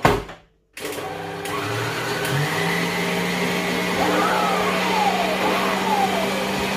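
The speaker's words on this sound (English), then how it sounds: "I will now be whisking my egg whites in another stand mixer into a peak consistency." A stand mixer whisks egg whites to peaks for a red velvet cake batter, giving a steady, loud motor whir with a rising, shifting pitch after a brief silent gap at the start.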